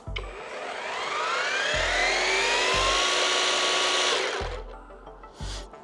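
A Procraft ATA-40 cordless battery trimmer spins up gently into a smooth whirring whine, holds steady for a few seconds and then winds down, with soft periodic thumps beneath and no talk.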